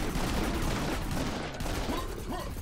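Pistol gunfire in the shooter game Serious Sam's Bogus Detour, a dense run of rapid shots over steady game noise, continuous and fairly loud throughout.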